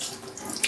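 Tap water gushes steadily from a faucet over an idli plate to cool it, a close, continuous splashing stream with no talk.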